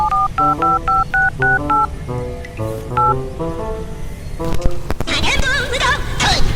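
Telephone keypad being dialed, a quick run of about a dozen clear, evenly spaced DTMF beeps up front, followed by a jumble of noisier electronic sounds and clatter.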